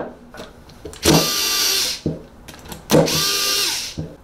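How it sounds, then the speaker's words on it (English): Two bursts of a cordless lithium power screwdriver whirring on a resin 3D printer vat, each about a second long with a rising whine, separated by brief pauses and small clicks; close and fairly loud. "If you want to use a power tool, use something gentle like this. This is a lithium screwdriver."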